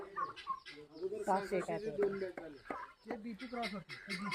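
Desi country chickens clucking on a poultry farm, close and continuous, with rhythmic clucks and short squawks overlapping a person talking nearby.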